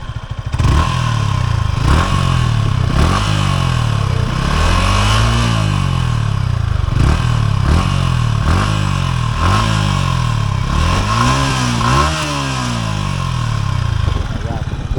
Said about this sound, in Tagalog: So, ito yung stock exhaust.